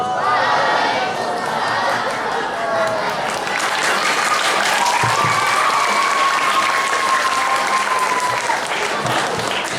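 An audience at a Maulid Nabi gathering claps in loud, sustained applause that carries through the whole stretch, with a voice and some crowd noise mixed in.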